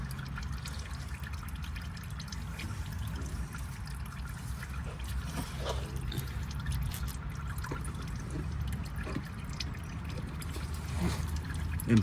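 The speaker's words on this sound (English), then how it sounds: "you just pump in oil until it comes out of the fill plug" Oil trickling out of the fill plug of a Subaru Impreza CVT transmission during a service, a faint steady dribble with soft drips over a low background hum.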